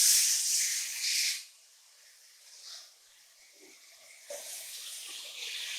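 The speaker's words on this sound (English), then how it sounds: "we have a pan heated up over a medium-high heat. To this, we are going to add in our ground beef" Ground beef hits a pan heated over medium-high heat for enchiladas and sizzles with a loud, hissing crackle. It quiets briefly, then picks up again into a steady sizzle, with no talk.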